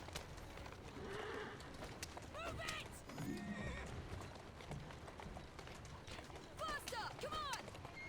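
A horse in the Assassin's Creed Syndicate video game whinnies several times over galloping hoofbeats, moderately loud against constant game background noise, with a voice heard briefly.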